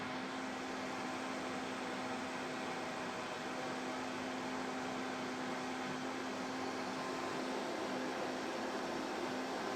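A high-speed blender whirs steadily as it purées a duck red pipián sauce, a loud, constant motor drone with a fixed hum that runs unbroken and close throughout, with no voices.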